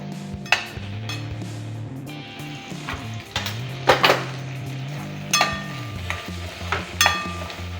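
Chopped raw jackfruit pieces fry in a pan with a low sizzle beneath repeated clanks and scrapes of a utensil against the metal, plus a steady low hum running underneath.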